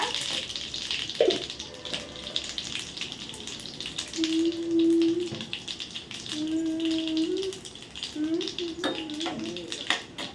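Tempering spices with dried red chillies crackle and fry in hot oil in a pan, a continuous close sizzle running under people talking.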